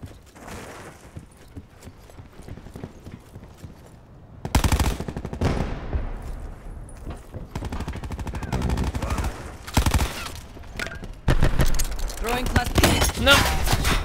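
Gunfire in Call of Duty Black Ops 4 gameplay, rapid automatic bursts and dense volleys that come and go, loud and close, over game sounds and a quieter stretch at the start.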